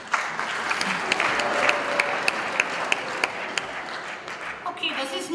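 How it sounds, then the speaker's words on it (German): Audience at a comedy stage show clapping in a burst of scattered, fairly close applause with sharp individual claps standing out, fading near the end as a voice talks. "dann klatschen jetzt alle Männer, die mich erotisch finden,"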